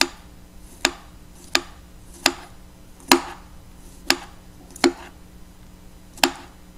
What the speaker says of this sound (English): you want to go ahead and get that diced up